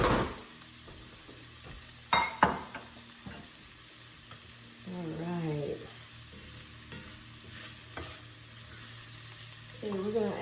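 Garlic and ingredients for jambalaya sauté in a hot pan with a low steady sizzle, broken by a few sharp clacks of a utensil against the pan and brief stirring scrapes, with no talking.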